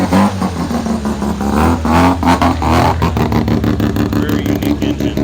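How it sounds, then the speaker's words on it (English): An early-1980s Mazda RX-7 with a rotary engine revs at a car show, a loud, continuous buzzy engine note with rising and falling throttle, heard close up. "what we have is a Mazda RX-7 from back in the early 80s"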